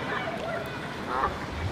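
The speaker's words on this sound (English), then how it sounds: "I think she wants to see the ducks, I'm not sure, or geese," Ducks or geese at a pond give a few faint quacks or honks in the distance, soft and scattered amid low outdoor background noise.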